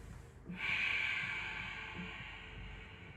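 A single audible exhale during a yoga handstand drill: a soft, breathy hiss lasting a couple of seconds, close and quiet against a faint room hum.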